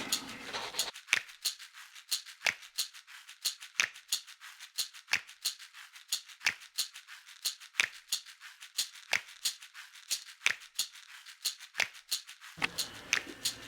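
Scissors snip through paper while a cube template is cut out, roughly twenty crisp, close cuts in a steady rhythm with short rustles of the sheet between them and no talking.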